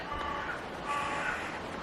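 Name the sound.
crow cawing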